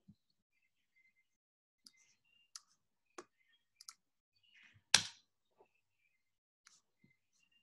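Sparse, quiet clicks of a computer mouse, a handful of short isolated taps scattered over several seconds in an otherwise silent room, with one slightly louder knock.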